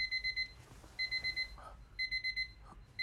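An alarm clock rings in three short bursts of rapid, shrill beeping with brief pauses between, fairly close in a quiet room; a few faint rustles fill the gaps.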